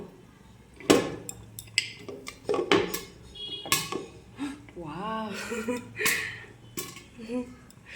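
Metal lid set onto a cooking pan over a gas flame in a home kitchen, several sharp clanks and clatters of cookware spaced through the clip, heard close up while someone talks.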